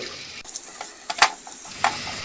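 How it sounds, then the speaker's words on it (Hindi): Two finely chopped medium onions fry in ghee until brown, giving a steady close crackling sizzle with a few scraping stirs and small spatula knocks. "अब इसमें ये 2 मीडियम साइज के बारीक कटे प्याज डाल देंगे और इन्हें ब्राउन होने तक अच्छे से भून लेंगे।"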